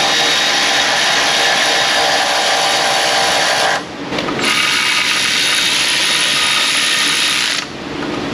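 A loud power tool runs continuously with a rasping, ratcheting whir in an auto repair shop, briefly cutting out twice before starting again.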